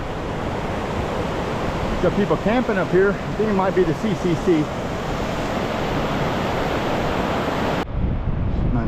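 Bubbs Creek, a mountain creek on a Sierra trail, rushes and roars steadily and loudly nearby while someone talks over it.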